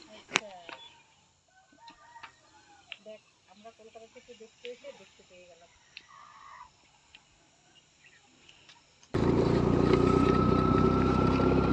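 A peacock calls near a dam on a road trip, several harmonic, honking cries ringing out over a quiet outdoor background before a sudden loud rush of wind or engine noise takes over.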